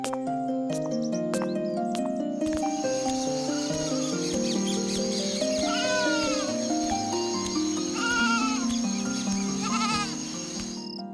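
Sheep bleat repeatedly in a cartoon Bible story, several wavering cries layered over sustained background music, fairly close and clear with no talking.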